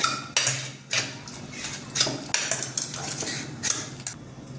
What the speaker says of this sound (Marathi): आता याला बारीक करून घ्यायचं मॅशरनी असं